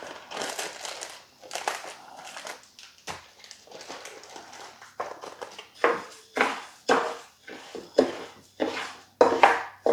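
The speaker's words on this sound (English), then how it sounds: "Give it a good mix so the rice is good and coated in that oil." Rice toasting in oil in a pot for Spanish rice is stirred, giving a series of close, dry scraping and crinkling swishes that grow stronger and more rhythmic toward the end, with no talking.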